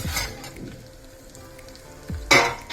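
Coriander seeds, fenugreek, fennel, dried red chillies and coconut crackling as they roast in a pan, soft sizzling with a few sharper bursts of popping, fairly quiet.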